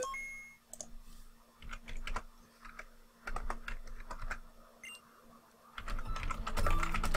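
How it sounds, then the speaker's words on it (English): Bursts of computer keyboard typing after an online game match, with irregular clusters of key clicks that are close and clear and grow denser and louder toward the end, alone with no talk. "Sorry, I'm just typing."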